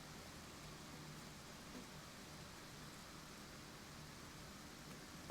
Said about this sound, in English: I think if I boost the microphone like so, you should be hearing like the rain as like white noise.